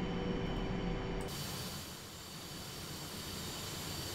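An F-5E Tiger II jet taking off in the DCS flight simulator game: a steady, broadband engine roar that stays fairly constant, dipping slightly and then holding, with no talk.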